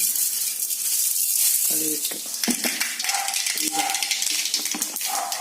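Chopped onion and chili fry in hot oil for a fenugreek leaf thoran. A steady, bright sizzle runs throughout, with a few stirring knocks and scrapes over it partway through.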